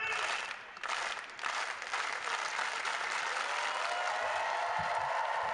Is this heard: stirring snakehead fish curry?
no